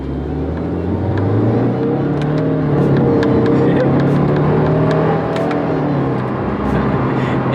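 A 2017 Subaru WRX in paddle-shift mode accelerates hard almost to the red line, the loud engine note rising steadily in pitch with road rumble and a few clicks, heard from inside the car.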